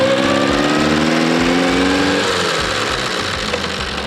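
Engine of a homemade redneck go-cart runs loud and close, a rough chugging drone whose pitch slides and drops as gears are shifted, with no talk over it.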